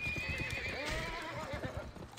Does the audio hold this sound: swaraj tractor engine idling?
no